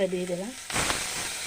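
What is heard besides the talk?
spice-washing water poured into hot pan, hissing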